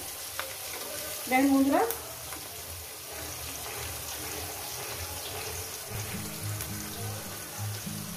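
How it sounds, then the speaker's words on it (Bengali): Onions and green chillies fry in oil with a steady, close sizzle, broken by a brief bright scrape of a utensil early on and a low rumbling stir toward the end. "কাঁচা লঙ্কাটা পেঁয়াজের সঙ্গে একসঙ্গে ভেজে নেব।"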